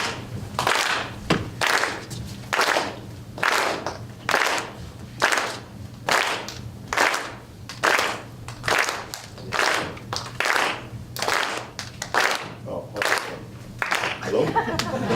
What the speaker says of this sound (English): Just get everybody to clap your hands real quick.